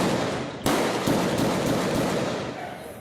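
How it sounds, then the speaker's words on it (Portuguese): Gunfire in a street shootout between police and armed men, recorded by a nearby resident: a series of sharp, booming reports at uneven intervals over a constant hiss, sounding somewhat distant and echoing. "Tiros e mais tiros."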